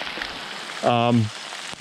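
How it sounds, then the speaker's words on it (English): Steady rain falls through a forest at Cook Forest State Park, a soft continuous hiss of drops on leaves and ground, with a brief louder tonal burst partway through. "Here comes the rain."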